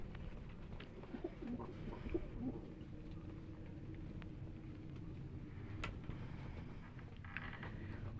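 Soft coos from tumbler pigeons sound faintly a few times early on during night feeding of their young, over a low background hum and occasional light clicks.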